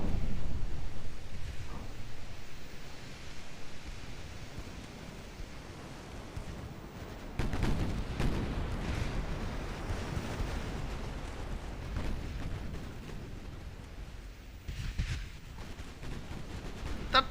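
Torpedo hits on warships in a naval strategy game, several heavy booming explosions with deep rumbling low end, the loudest blasts near the middle and again toward the end over a continuous roar.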